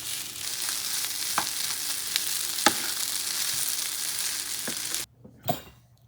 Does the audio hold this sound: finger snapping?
no